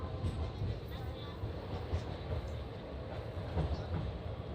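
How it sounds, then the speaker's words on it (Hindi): A departing passenger train rumbles steadily on its rails out of Bareilly Junction, a continuous low roll with faint rhythmic clatter heard from on board. "चलिए ट्रेन भी हमारी डिपार्ट कर चुकी है"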